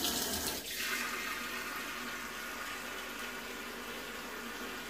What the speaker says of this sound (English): We'll run the hot tap.